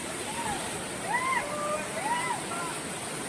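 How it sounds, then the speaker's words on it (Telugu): Water pours down the Gandahati waterfall in Odisha as a steady, faint, even rush, with a few thin high chirps riding above the constant roar. "పైనుండి కింద వాటర్ పారుతుందన్నమాట."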